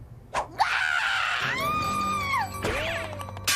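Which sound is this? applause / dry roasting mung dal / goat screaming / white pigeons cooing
goat screaming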